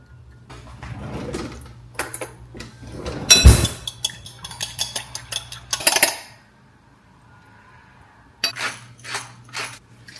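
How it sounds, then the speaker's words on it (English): Scrambled eggs being swirled constantly in a pan, with metal utensil scraping and clinking against the cookware in irregular bursts, loud clatter, then a quiet pause before more clinks. "I like to constantly kind of swirl my scrambled eggs."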